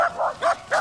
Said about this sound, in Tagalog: Ayun na, may nakita silang ibang aso.